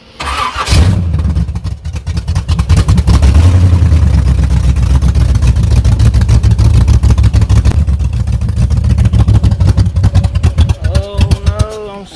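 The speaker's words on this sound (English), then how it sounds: "Let's run her down the road one more time, see if our transmission is shift now." A V8-swapped Blazer fires up and roars as it drives down the road, a loud, sustained engine drone that rises and falls with throttle, close up, with a voice heard briefly near the end.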